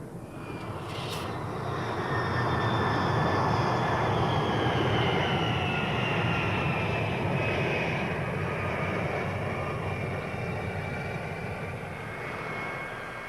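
Boeing jet airliner engines drone steadily in flight during a climb, a loud, continuous broadband roar with faint high whining tones running throughout and no voices.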